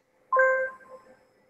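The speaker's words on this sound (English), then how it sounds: "So I had to pull my phone out because it kept on dinging." A single bright phone notification ding sounds close and clear against near silence, ringing briefly before fading out.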